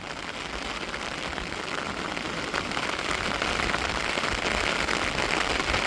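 Heavy rain pours down steadily during a sudden summer storm near the seashore, a dense, continuous hiss of drops beating on surfaces with no pauses, loud and close throughout.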